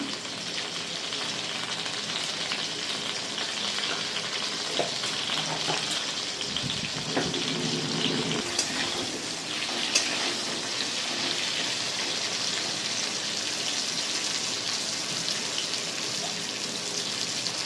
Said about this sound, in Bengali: আলুগুলোকে লাল করে ভেজে নেবো বন্ধুরা আমি একটু লবণ দিয়ে দিলাম